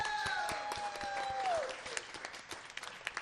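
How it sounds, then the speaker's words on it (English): Audience applause for a poet at a live reading event, a dense steady clatter of many hands that thins into scattered claps toward the end, with a faint tonal whine fading out early on. "And one more round of applause for our poet."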